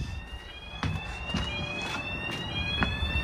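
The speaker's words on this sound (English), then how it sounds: "There we go, there's the alarm again." An alarm sounding from a farm machinery screen while barley is loaded, a steady high electronic tone that holds throughout over a low engine rumble and scattered knocks.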